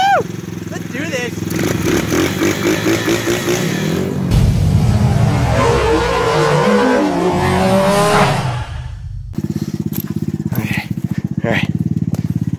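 A Honda ATC90 three-wheeler and a 50R mini bike ride with loud, buzzy small-engine revving and acceleration that rises and falls, sometimes mixed with tire noise, and voices shout over them.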